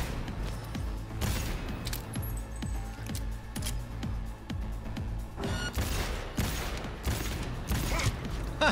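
Rapid turret gunfire in the video game Cyberpunk 2077, a dense stream of sharp shots with mechanical clatter, steady through the stretch and swelling louder toward the end amid game sounds.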